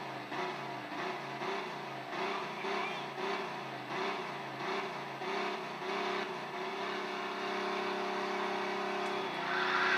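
A car engine in the video game Mafia 2 revs in a steady pulsing pattern, rising and falling in repeated waves before settling into a sustained drone, moderately loud with no talking.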